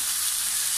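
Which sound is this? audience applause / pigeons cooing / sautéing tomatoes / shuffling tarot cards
sautéing tomatoes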